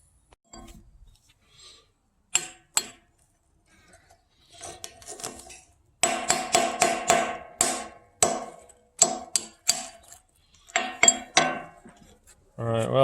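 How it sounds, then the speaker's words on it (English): A hammer pecks at freshly smelted, still-hot lead and slag from silver ore, giving irregular sharp metallic taps and clinks, sparse at first and then in quicker clusters, close by. "let me get a hammer and I'll just kind of peck away at it"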